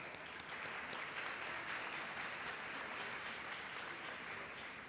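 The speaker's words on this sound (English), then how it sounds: "Give a hand of applause for her." Audience applause at a college commencement ceremony, a dense, even roar of many hands clapping that holds steadily throughout, heard from a distance and fairly quiet.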